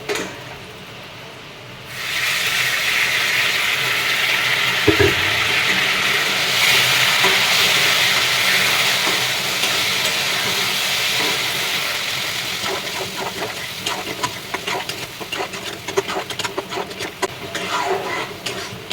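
Pointed gourd is stirred in a hot pan, then a splash of water hits and erupts into a loud, sustained hiss that gradually settles into crackling sizzle with rapid stirring scrapes toward the end; no voices.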